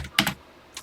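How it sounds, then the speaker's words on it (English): Modern computer keyboard being typed on, two or three quick close key clicks in a short burst, then a brief pause and another tap, with no speech. "I'm using my modern keyboard, not the TI-99 right now"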